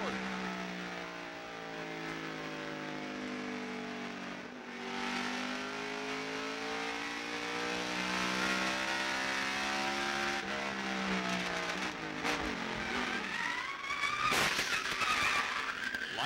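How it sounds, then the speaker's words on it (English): A NASCAR stock car at the 1998 Pontiac Excitement 400 suffers a tire blowout and skids into the wall: a steady, shifting engine drone gives way to harsh scraping and crashing bursts near the end. "You hear that tire blow just before he got in the wall?"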